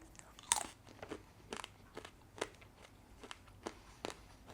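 Crisp, dry crunches of someone chewing thick coconut chips, irregular bites and crackles close to the ear, no talking.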